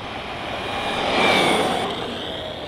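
An HPI Jumpshot MT Flux electric RC monster truck at full throttle, a steady high-pitched motor whine that swells as it passes closest and then eases off, heard alone.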